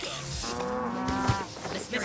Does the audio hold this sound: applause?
no